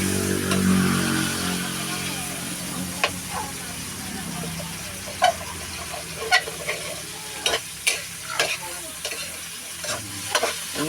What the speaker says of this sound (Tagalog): Luto-lutuin muna ang kamatis.